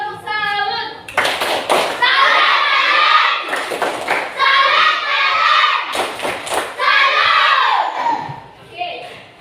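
A classroom of children does the tepuk salut clapping chant, bursts of sharp unison claps and thumps alternating with shouted chanting voices, loud and close.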